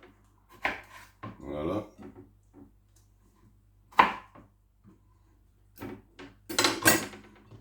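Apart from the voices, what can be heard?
knife cutting tomatoes in a kitchen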